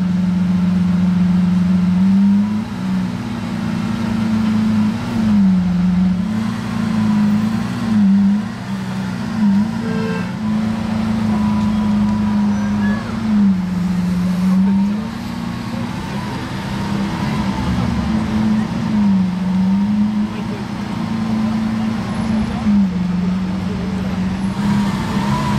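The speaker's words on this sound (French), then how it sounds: "il y a une voiture qui arrive derrière" A car on a Paris street, a loud, close engine drone that holds steady for the whole stretch, its pitch wavering up and down as the revs rise and fall, with no talking over it.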